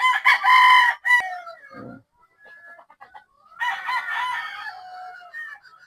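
A street-breed possum rooster, a gamefowl, crows loudly and close, then a pause with faint clucks before a second long crow.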